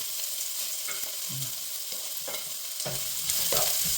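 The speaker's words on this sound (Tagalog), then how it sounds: "Ngayon, maglagay ako ng garlic at saka onion" Barely minced garlic and onion frying in a pan, the first step of pancit canton with tofu, giving a steady close sizzle with occasional stirring scrapes that grows slightly louder near the end.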